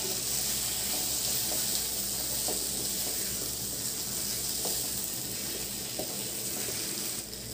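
A vegetarian pumpkin curry with green peas sizzles steadily in a pan for several seconds, with faint occasional stirring taps beneath the even frying hiss, close and moderately quiet.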